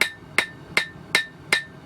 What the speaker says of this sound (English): It's an angled peen hammer, so that when I hammer it,